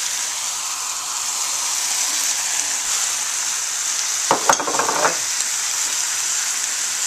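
Rice cooking in a pan with wine and margarine gives a steady, loud sizzle throughout, with a brief burst of stirring clatter near the end.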